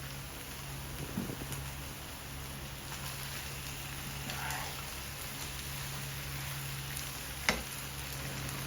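Char kway teow rice noodles stir-frying with sweet sauce in a hot pan, a steady low sizzle with occasional soft scrapes and clinks, no talking.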